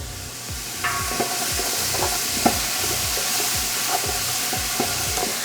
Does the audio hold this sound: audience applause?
no